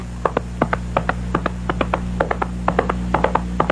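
Horse hoofsteps imitated with coconut halves as an old radio drama effect: a steady clip-clop of sharp hollow knocks, about four per second, close and clear over a low hum.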